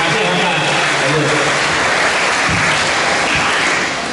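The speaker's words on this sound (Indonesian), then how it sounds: "Bagus, tepuk tangan ya." Loud, continuous applause from an audience of schoolchildren at an assembly with a provincial governor, a dense wash of clapping that carries steadily throughout and only begins to thin at the very end.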